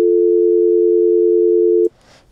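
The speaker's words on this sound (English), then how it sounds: "We'll make the dial tone where we just switch that to 350." A synthesized telephone dial tone at 350 Hz sounds as a loud, steady pure hum for almost two seconds, then cuts off abruptly, leaving a brief soft noise.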